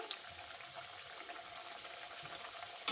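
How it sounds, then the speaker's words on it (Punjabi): Potatoes fry in hot oil for an aloo baingan dish, giving a steady, close sizzling hiss with faint crackles and a brief sharper pop at the end. No voices are heard. "ਆਲੂਆਂ ਨੂੰ ਮੈਂ 1 ਤੋਂ 2 ਮਿੰਟ ਲਈ ਫਰਾਈ ਕਰ ਲਿਆ ਹੈ"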